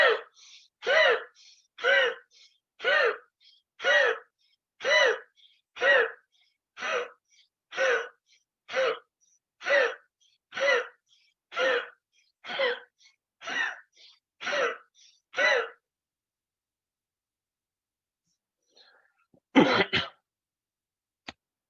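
Rapid Bhastrika yoga breathing: about twenty forceful, evenly spaced breaths in a steady quick rhythm, close and loud, then a pause and a final short burst of breaths.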